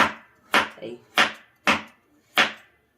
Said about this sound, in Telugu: చూడండి, ఇప్పుడైతే ఇగో కొబ్బరి ముక్కలు మంచిగా సన్నగా తరగాలి